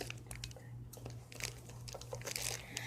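A homemade squishy is cut open, giving soft, close crinkling and tearing sounds in irregular bursts, faint and scratchy against low background hum.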